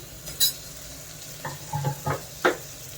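Tomato pieces and curry leaves tossed into a hot pan for a dill and moong dal curry, with a faint sizzle, a handful of distinct clinks and scrapes of a spoon against the pan, close and without speech.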